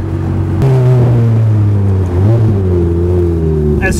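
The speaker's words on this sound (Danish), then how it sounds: "Og bare den her fantastiske Capristo-lyd." A Ferrari F430 Spider fitted with a Capristo exhaust, its engine holding a loud, close, rich harmonic drone at steady revs that briefly dips and swells partway through, with no talking.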